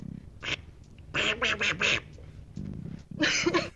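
A person imitates a duck's quack, giving a short call and then a burst of four quick quacks, a few low grunting notes and a final loud double quack, close and clear with no talking in between.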